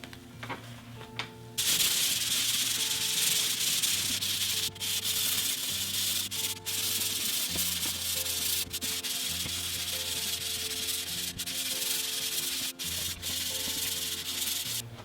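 Steady abrasive rubbing of sandpaper across a drywall patch, a continuous close scratchy sanding that runs for most of the stretch with brief strokes and pauses, no talking.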